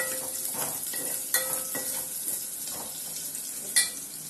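Onions sautéing with salt in a pan for kara kulambu, a soft continuous sizzle under repeated scraping and stirring strokes, with a couple of sharper clinks of a spoon against the pan.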